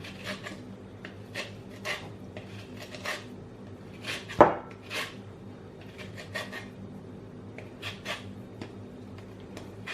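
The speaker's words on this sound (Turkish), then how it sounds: "Biraz şöyle kabuğundan rendeliyorum." Lemon peel being grated for cookie dough, quiet, close rasping strokes repeating at an uneven rhythm, with one sharper knock partway through.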